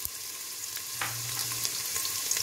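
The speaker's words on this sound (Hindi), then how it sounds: "अब इसमें डालेंगे प्याज और इसे हल्का गोल्डन ब्राउन होने तक भून लेंगे।" Onions fry in hot oil inside a pressure cooker, giving a continuous soft sizzle with a brief clatter near the start and no voices.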